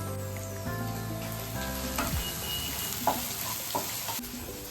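Ginger garlic chili paste, ajwain and spring onion greens sizzle loudly and steadily in hot oil, a continuous close frying hiss with a few stirring knocks and faint background music tones.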